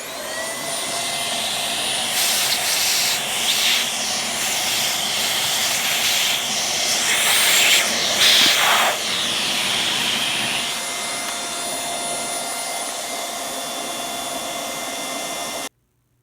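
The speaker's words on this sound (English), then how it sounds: "take a vacuum that has the hose bit to it, turn it on, and suck out the motor" A vacuum cleaner hose sucks dust out of a fan motor, a steady loud whooshing hiss that runs almost unbroken, with brief louder rushes midway as the nozzle shifts, then cuts off abruptly at the end.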